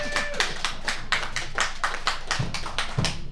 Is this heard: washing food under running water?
no